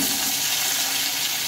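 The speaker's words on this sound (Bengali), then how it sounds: "এবার আলুগুলো ওই একই তেলে আমি ভেজে নেব" Potatoes fry in a generous amount of hot oil left over from frying shrimp, giving a loud, dense, steady sizzle close by with no pauses.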